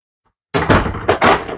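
An interior door swings open and shuts after its hinges are adjusted to fix sticking, giving a short, loud, close pair of wooden knocks and thumps after a moment of silence.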